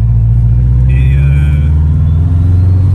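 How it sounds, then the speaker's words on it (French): A car engine holds high revs against the rev limiter, a loud, steady droning roar with a strained tone continuing throughout, close and alone. "ça prend le rupteur en 5"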